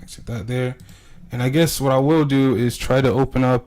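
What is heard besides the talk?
No everyday noises stand out.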